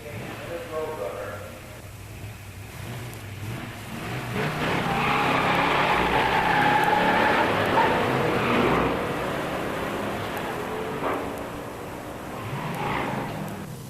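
A 1969 Mustang with a 428 SCJ 4-speed and a 1968 GTX with a 440 4-speed race down a drag strip at a musclecar nationals event. Their engines swell into a loud, sustained roar, then fade, with an announcer talking over it.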